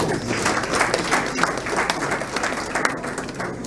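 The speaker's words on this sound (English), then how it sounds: "I think the Speaker deserves another round of applause." A room of press conference attendees at Nigeria's House of Representatives gives the Speaker of the House a dense, steady round of applause that holds at an even level throughout, with no voice over it.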